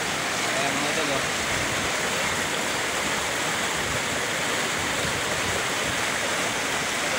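Flood water rushes across farm fields in a steady, broadband roar, unbroken and close throughout.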